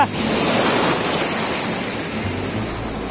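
Loud ocean surf washes onto a flat beach at Aaravi–Kondivali. The roar is steady and close, with wind buffeting the microphone, and no one talks over it.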